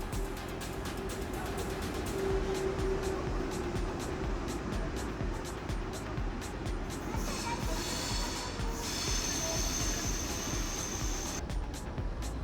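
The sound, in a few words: train arriving at Brussels Midi station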